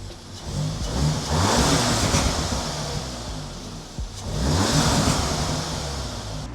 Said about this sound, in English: All right, let's give it a little rev.